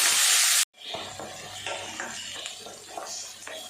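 Chopped shallots, garlic cloves, half a tomato and curry leaves sautéing in a pan for tomato kuzhambu, a burst of sizzle when added, then a steady moderate frying hiss with faint stirring scrapes and no speech.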